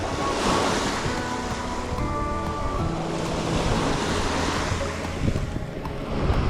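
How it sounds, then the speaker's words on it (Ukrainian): Sea waves breaking on an autumn shore, a steady close roar of surf with wind noise on the microphone and no pauses. "Але насолоджуйтеся хвилями, тому що це, як то кажуть, такий релакс для наших вух."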